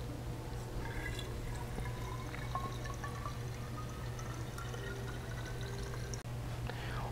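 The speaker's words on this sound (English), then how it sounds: "you can just go ahead and fill the bottles directly from the spigot," Homemade wine from an RJ Spagnol's Orchard Breezin' kit runs straight from a fermenter spigot into a bottle, a soft continuous trickle and faint drips under a low steady hum, quiet and close.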